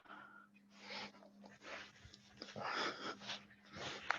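A soft, close inhale and breathing as someone lifts into a shoulder stand during a yoga flow, faint airy breaths rising and falling over a few seconds with a low steady hum underneath.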